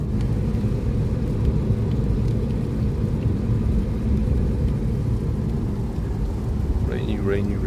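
Heavy rain pours steadily during the rainy season in Hua Hin, Thailand, as a continuous dense roar with deep low rumbling underneath.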